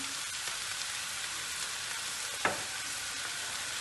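Half a kilo of diced liver sautéing in a hot pan gives a steady, close sizzle with a single sharp clink from a utensil near the middle, with no voices.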